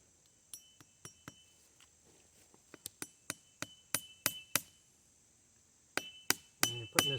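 A hammer drives a metal staple into a tree to fasten a trap chain, a series of sharp metallic strikes in an uneven rhythm, some quick pairs and some spaced apart, loud and close against quiet woods.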